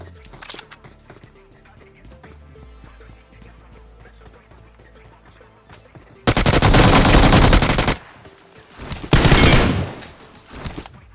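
Automatic rifle fire in the mobile battle-royale game BGMI (PUBG Mobile): loud sustained bursts, one long volley then a shorter one, after a quieter stretch of game sounds.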